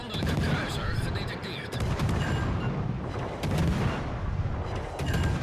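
Warship guns fire in the World of Warships Legends naval game, booming salvos and dense gunfire rolling continuously at steady loudness, with several heavier blasts punctuating the constant battle din.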